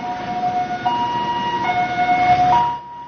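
An ambulance siren wails steadily and loudly with a two-tone pitch that shifts partway through, close by, then cuts off abruptly just before the end, with no talking.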